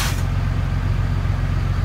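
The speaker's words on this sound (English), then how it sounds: "lowering my air pressure" Truck air brakes being pumped during an in-cab inspection to drop the air pressure, a loud close hiss of released air with a steady low engine rumble underneath, running unbroken throughout.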